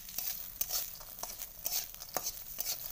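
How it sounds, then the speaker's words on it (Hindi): Bari lentil dumplings frying in a wok, with a steady soft crackle and bright hiss broken by light scraping taps as they are turned, close and moderately quiet. "इसमें मैं बरी दूंगी बरी को थोड़ा सा फ्राई कर लेती हूँ"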